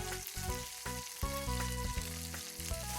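Beef garlic fried rice with carrots sizzles and crackles steadily in a hot pan as it is stir-fried, loud and close with faint scraping stirs.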